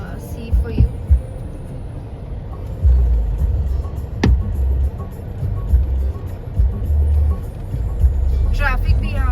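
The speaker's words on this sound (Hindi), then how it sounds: "ट्रैफिक भी यहाँ पर बहुत हो जाता है।" Road traffic in a busy city centre near the clock tower in Dehradun, Uttarakhand: a steady low rumble of passing vehicles with a few sharp honks, carrying on under street noise.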